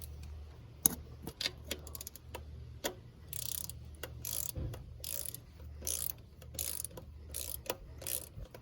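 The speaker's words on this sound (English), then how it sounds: "Now I'm going to tighten it down with a torque wrench, and we're aiming for 106 inch-pounds." Throttle body bolts being tightened with a torque wrench on a Chevy Silverado, faint ratcheting clicks and scattered metallic taps in irregular bursts over a quiet background.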